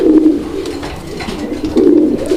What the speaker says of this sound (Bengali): এখানে আরও এক জোড়া রেসার কবুতর